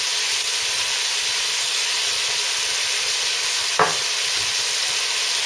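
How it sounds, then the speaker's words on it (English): Greek sausages sizzling and frying in a pan with a steady, even hiss throughout, and one brief scrape of stirring near the end. "And give it a good mix."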